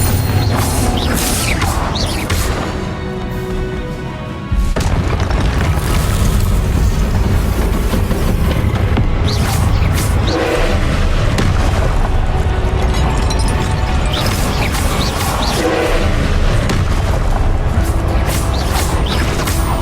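Booming Confringo blasting-spell explosions from Hogwarts Legacy, fired repeatedly amid a dense, loud barrage of bursts, crashes and game effects, with a brief dip in the din before the blasts resume.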